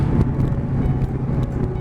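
Honda VFR800X Crossrunner motorcycle with a VTEC V4 engine, running hard with a steady loud drone and rough low rumble throughout, close and continuous with no voices.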